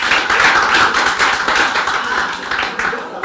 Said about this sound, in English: clap for him